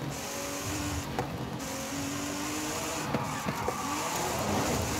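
A Nissan Z under heavy power in Forza Horizon 5 drones with a steady, loud engine note, close up, with faint tire scrubbing as it slides sideways.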